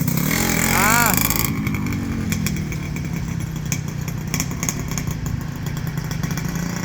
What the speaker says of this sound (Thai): ทดสอบรถนะครับ ลองขี่ ลองวน ลองเทสดูว่าจะประมาณไหน